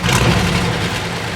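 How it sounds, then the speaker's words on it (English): A 1972 GMC truck's engine runs at a steady idle, a close, dense mechanical rumble that holds evenly for a brief moment. "It idles good"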